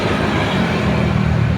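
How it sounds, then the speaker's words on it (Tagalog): Jeepney engine rumbling on a busy street, a steady, loud low drone of traffic noise filling the whole moment without a break. "Tangkinang ingay ng jeep"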